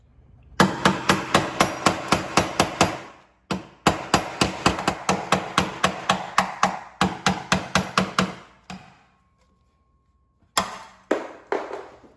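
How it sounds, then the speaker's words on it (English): Rapid metallic hammer strikes on a flathead screwdriver prying a part loose during a Fiat 500 Abarth radiator replacement, in quick bursts, a flurry of evenly spaced blows, a short pause, then more rounds of hammering with a few final taps. "take a flathead and kind of hammer that flathead in to help pry it loose"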